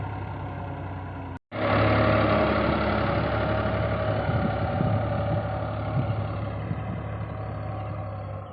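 A tractor engine runs at a steady, loud idle nearby, cutting out for a split second before the rumble resumes and continues evenly.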